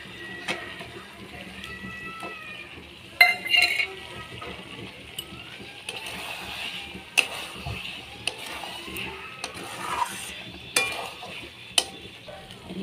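Fried potatoes are stirred into a thick mutton curry in a pan, giving a low steady sizzle with scattered scrapes and clinks of a spatula against the metal, some sharper knocks spaced every second or so.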